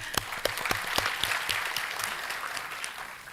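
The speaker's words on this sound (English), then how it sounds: "May we have a clap for that," Audience clapping at an international higher education symposium, a burst of scattered claps from a seated crowd that quickly thickens into steady applause and then thins toward the end.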